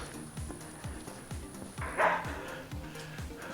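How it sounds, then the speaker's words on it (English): Several dogs bark and yip in short repeated bursts, fairly distant, with a clatter of nearby handling noise partway through. "You can hear a lot of dogs having a good time talking to each other."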